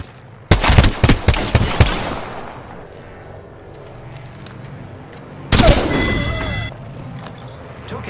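Gunfire in the video game Apex Legends: a rapid burst of loud automatic shots, then a lull of ambient game noise before a second heavy shot or blast with a ringing tail.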